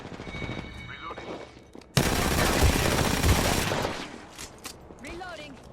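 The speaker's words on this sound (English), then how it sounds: "They're shooting at me." Automatic weapon fire from an Apex Legends match erupts in a dense, loud burst of rapid shots for a few seconds, with game sound effects and a player's voice around it.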